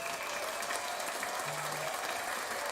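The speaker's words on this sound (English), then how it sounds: "a round of applause" Continuous dense audience applause, steady and evenly loud with no talk over it, with a brief hum partway through.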